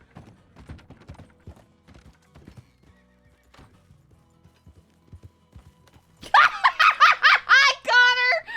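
A horse in the RedM western roleplay game clip-clops along at a steady walk, its hooves soft and even, then lets out a loud, close whinny near the end.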